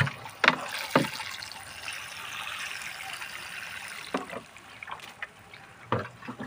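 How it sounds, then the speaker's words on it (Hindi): Water is poured onto the soil of a potted hibiscus, a soft splashing trickle heard close by, with a few sharper knocks and splashes at the start and near the end. "तो अच्छे से इसको वाटरिंग हम कर देंगे।"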